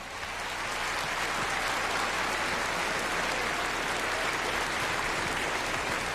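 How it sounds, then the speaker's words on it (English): A Grand Ole Opry audience applauds a western band, a steady, dense wash of clapping that holds at full strength for the whole stretch with no talk over it. "Give them a nice round of applause."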